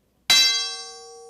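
A vibrating metal rod of a different cross-section and length is struck once with a sharp clang, then rings on in clear, steady overtones, including a high-pitched one, that fade slowly, with no other sound.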